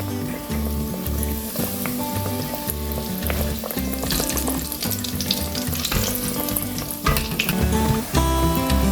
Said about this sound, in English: I just cut them up and just fry them like that